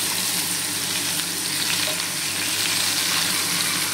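Cut ash gourd pieces fry in a hot pan with a loud, steady, close sizzle and crackle, broken by light stirring.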